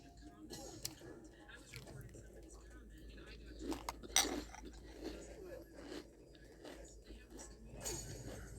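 Someone eats sugar cookie toast crunch cereal close up, with soft crunching and chewing bites spread through the clip, one louder crunch in the middle, amid quiet whispered talk.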